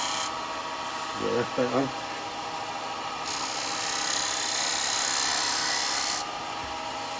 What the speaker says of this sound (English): I might get a better cut with a small chisel here.